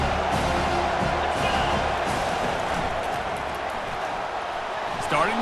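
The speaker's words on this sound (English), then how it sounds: "This crowd knows when to bring it." A stadium crowd roars steadily during a TCU Horned Frogs game in College Football 25, a dense, continuous wall of cheering with a commentator talking over it.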